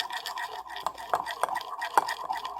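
A spoon stirs coffee in a cup, giving a run of quick light clinks and scrapes, close and fairly steady, with a faint voice in the background.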